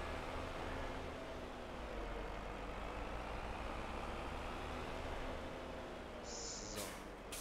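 A truck drives in Farming Simulator 22, giving a faint, steady engine drone with a low rumble that holds evenly throughout, with a brief higher whine at the very end.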